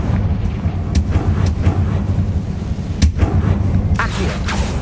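Confringo fire spell blasts in the Hogwarts Legacy video game, loud booming bursts over dense rumbling game sound, with several sharp impacts spaced a second or so apart.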